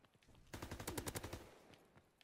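An MP40 submachine gun in a WWII multiplayer video game fires a rapid burst of about a dozen sharp shots lasting around a second, loud and close, then falls silent.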